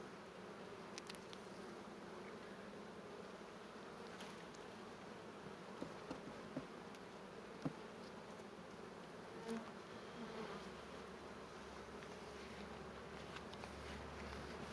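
Honey bees buzz steadily around a 10-frame hive in a dense, continuous drone, some passing close by, with a few faint taps.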